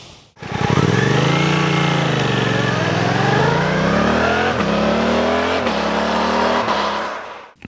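2023 Suzuki GSX-8S motorcycle with its Euro 5 stock exhaust, revved at close range, pitch climbing and falling in several rising and dropping sweeps before cutting off.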